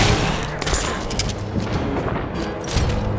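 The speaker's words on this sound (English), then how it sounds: "stop shooting me" Gunfire from enemies in the early-2000s hack-and-slash game Enclave, a dense, continuous barrage of overlapping shots and thuds filling the scene at steady loudness with no talk.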